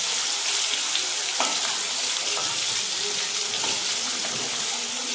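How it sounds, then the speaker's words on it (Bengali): Fish pieces fry in hot oil alongside beans, a close, steady sizzle with scattered sharp pops and spatters, continuous and fairly loud with no voices. "মাছও প্রচুর ফাটবে জানি। সব একবারেই দিয়ে দিলাম।"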